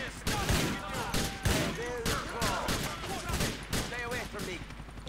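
Gunfire in the video game GTA IV, heard as a run of loud, sharp shots in quick irregular succession over a busy background, without speech.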